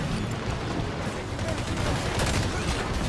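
Rapid gunfire in Halo 5 multiplayer, a dense, continuous burst of shots at moderate level with no clear gaps between them.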